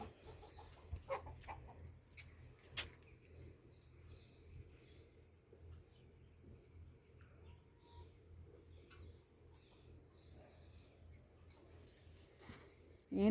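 Chickens on a farm in Dubai cluck and coo faintly in the distance over a steady low background hum, with a few brief louder calls scattered through.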